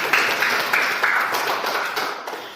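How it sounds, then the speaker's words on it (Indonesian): Students in a junior high school classroom clap their hands together in a short burst of dense, fairly close applause that tapers off over a couple of seconds. "sekali lagi tepuk tangan"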